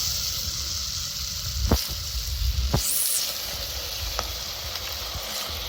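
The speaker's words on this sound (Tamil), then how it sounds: "இப்போ நல்லா வெங்காயம் வதங்கிடுச்சு இந்த ஸ்டேஜில் நம்ம இஞ்சி பூண்டு டேஸ்ட் பண்ணுறோம்" Onions frying in a pan for mutton gravy, with ginger and garlic stirred in, give a steady close sizzle and a few sharp clicks as ingredients are dropped in and stirred.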